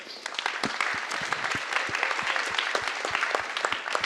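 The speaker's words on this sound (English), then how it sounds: "Just a big round of applause for her." Audience applause at a PyCon Italia 2025 lightning talk session for a companion named Alessia, dense steady clapping from a crowd that holds throughout without fading.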